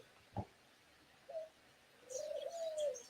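Pigeons cooing in a video game: a sharp tap, a short low coo, then a longer drawn-out coo with faint chirps above it, all quiet against a calm background.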